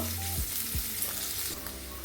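Sliced carrots stirred and frying in a pan for egg chow mein, a steady close sizzle with a couple of scraping utensil strokes early on, no voices.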